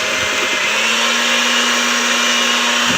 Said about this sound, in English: I'm using this electric mixer